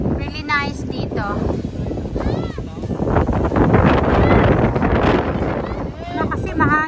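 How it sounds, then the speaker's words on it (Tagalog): Strong gusts buffet the microphone outdoors at Horseshoe Mound Preserve in Galena, Illinois, in fall, a loud roaring rush swelling midway, while people talk and exclaim over it. "Oh my gosh, mahangin talaga."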